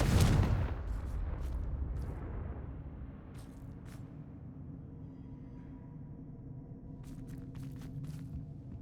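A Confringo fire spell explodes in Hogwarts Legacy with one loud, booming burst at the start, then a long rumbling roar that fades under scattered faint crackles and ticks.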